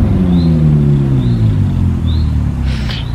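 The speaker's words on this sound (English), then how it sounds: "sorry about the noise of the motorbike." A low engine drone sweeps steadily downward in pitch, the rumble of a motorbike passing close by a field on a summer's day and fading off.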